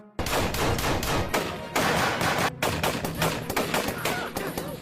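Rapid bursts of gunfire from the film Rogue Warfare crackle continuously, loud and dense, with short gaps between volleys and no talking.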